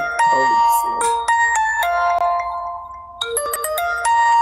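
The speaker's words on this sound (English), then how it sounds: "Today, I get business phone call." A mobile phone ringtone plays a bright, stepped electronic melody for a business call, loud and close, repeating its tonal phrases with a brief pause before restarting.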